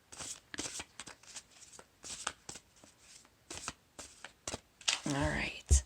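Tarot cards being shuffled by hand, a string of quick riffling bursts with brief pauses between, close and crisp, with a voice talking over the last part.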